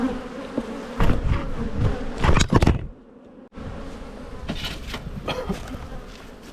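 Italian honey bees swarm and buzz in an open hive in a dense, continuous drone, broken by a few clunks of handling and a brief near-silent gap before the buzzing resumes.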